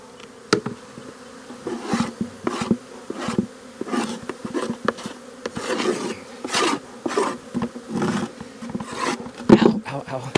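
Honey bees buzz loudly around an open hive while a beekeeper cleans a dirty bottom board covered in dead mites; close, wavering drones rise and fall continuously, mixed with knocks and scrapes of handling.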